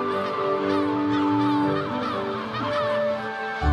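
Seabirds calling at a busy gull colony as adults fly in with food for their chicks, a dense, loud chorus of honking, overlapping cries throughout with no pause.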